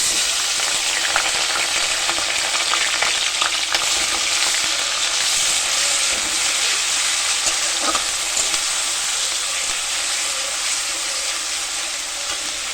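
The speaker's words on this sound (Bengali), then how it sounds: "পেঁয়াজ ভাজাটা ভালো করে ভেজে নিতে হবে" Onion paste fries in oil with whole cinnamon, cloves and cardamom, making a loud, constant close sizzle with light stirring crackles throughout and no voices.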